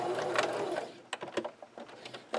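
Sewing machine back stitching fabric for a drawstring backpack: a close burst of rapid mechanical needle clatter, then shorter stop-start runs of stitching with clicks between them.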